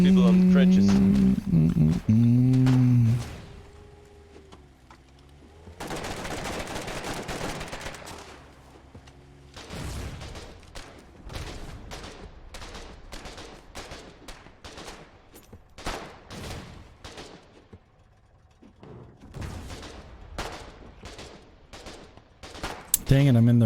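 Front-line gunfire in Foxhole, near the trenches, arrives as repeated sharp shots and bursts at an irregular pace. Talking and other voices are heard at the start and mixed in throughout.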